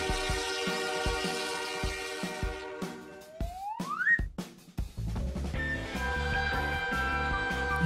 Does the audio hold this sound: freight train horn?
yes